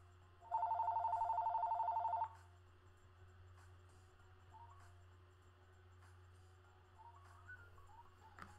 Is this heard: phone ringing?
yes